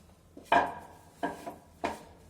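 A lid or dish set down over freshly made hot rotis in a home kitchen gives three short clattering knocks, the first loudest, spaced about a second apart, close by with no talking.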